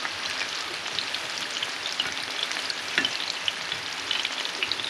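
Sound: breaded shrimp deep-frying in a pan of oil

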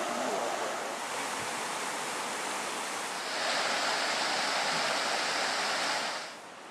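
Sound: flowing water of the Gregory River

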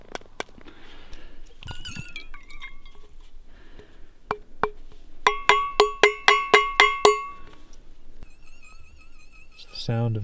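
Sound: gold nuggets clinking on metal pan

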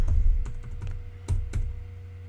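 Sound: typing on a computer keyboard

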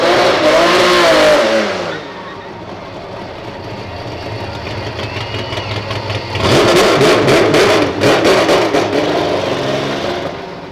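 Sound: naturally aspirated Chevrolet Caravan engine revving in street race

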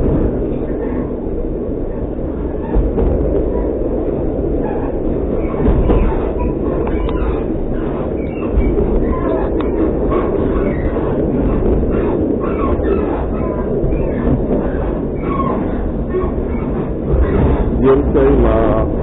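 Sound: train riding on rails

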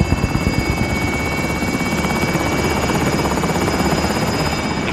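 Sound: attack helicopter in Call of Duty: Modern Warfare video game

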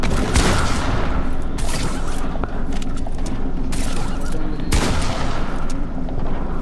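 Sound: gunfire from real guns in Fortnite video game

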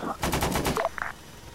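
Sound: door gunner shooting helicopter machine gun in ArmA 3 video game

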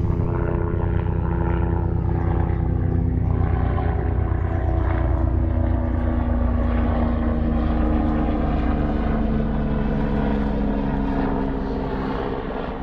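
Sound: helicopter flying overhead

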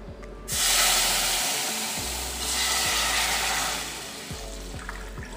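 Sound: pouring vegetable broth into a pan

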